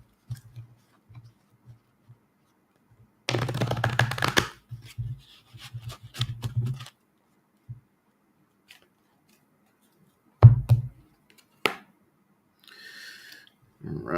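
A deck of oracle cards being shuffled in short bursts of riffling and rustling, close up, separated by quiet gaps and brief handling noises.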